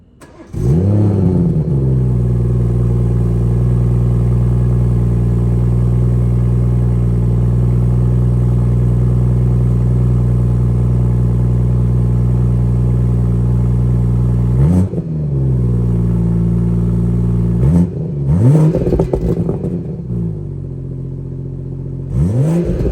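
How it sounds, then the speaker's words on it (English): A B58 car engine with the stock downpipe rumbles loudly at a steady idle for a long stretch, then blips through two sharp revs near the end, exhaust growling up close. "record some startup roars, cold starts, and just some exhaust noise with the stock downpipe in"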